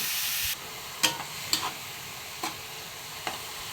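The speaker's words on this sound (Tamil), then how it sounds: "பீட்ரூட்டை போட்டு நல்லா வதக்கிட்டு அதுக்கப்புறம் அப்படியே வேக வைக்கலாம்" Grated beetroot cooking in hot ghee for home-style halwa: a brief loud sizzle at first, then a quieter hiss with a few sharp clinks of a spoon against the pan.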